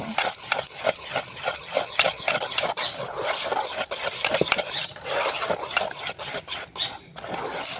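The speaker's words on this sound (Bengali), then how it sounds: "ব্যাটারটা দিয়ে ভালো করে ব্যাটারটা মিশিয়ে নিতে হবে" Pitha batter with baking powder and baking soda is beaten in a bowl, producing rapid continuous rhythmic slapping and clinking strokes of a utensil, close and fairly loud throughout.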